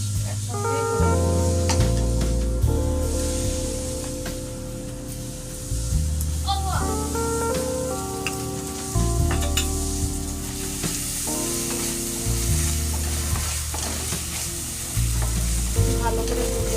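Ginger, garlic and green chilli paste fries in hot oil for dab chingri, a loud, steady sizzle close by, broken by repeated scraping strokes of a stirring spoon.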